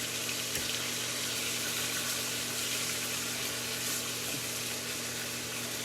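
Steady sizzling of chicken patties frying in a pan, a constant crackling hiss with a faint low hum underneath and no talking.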